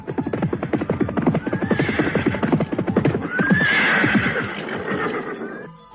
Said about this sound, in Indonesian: terdengar derap orang-orang berkuda semakin lama semakin dekat